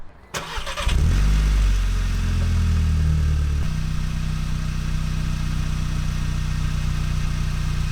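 A VW MK6 GTI fitted with a catback exhaust cranks briefly and fires up, then settles into a loud, steady idle with a deep exhaust drone, heard close and alone without talk.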